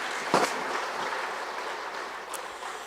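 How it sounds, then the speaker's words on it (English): Applause for flag dancers at an Alberta independence rally in Morinville, heard as a steady, distant wash of clapping from a crowd, fairly quiet and sustained throughout. "let's give those flag dancers another round of applause"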